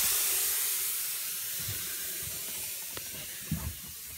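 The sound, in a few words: hissing gas leak from camper van fridge cooling unit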